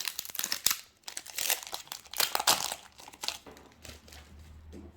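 A Pokémon card booster pack wrapper from the Radiant Destinies and Battle Styles sets crinkles and tears open up close. Irregular bursts of crackly foil crumpling come in quick pulses, louder in the middle and fading to softer rustling.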